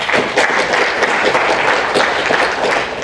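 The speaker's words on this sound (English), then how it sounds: "So a round of applause for Gloria, please." Loud, sustained applause from a crowd in a room, many hands clapping together in a dense, continuous wash with no pauses or voices standing out.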